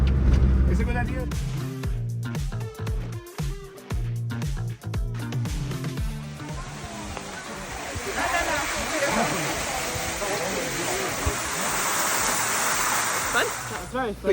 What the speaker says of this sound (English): We just walked through a waterfall on a road.